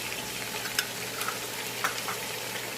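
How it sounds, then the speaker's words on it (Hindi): Red chilli, turmeric and ground coriander frying in oil with chicken for biryani, giving a steady close crackling sizzle with a few sharp pops and scrape-like stirring accents, no talking. "2 से 3 मिनट तक भूनेंगे।"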